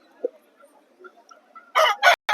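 A native rooster crows at a village rooster market, a loud close crow in a few bursts near the end after quieter background sounds.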